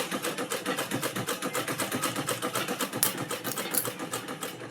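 A home sewing machine used for sewing runs at a fast, even pace, its needle mechanism producing a rapid rhythmic clatter of regular pulses, close and steady for the whole stretch without talk.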